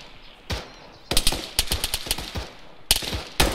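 Automatic gunfire in the video game ARMA 3: bursts of sharp, loud shots come in quick strings, with short gaps between volleys and single cracks after.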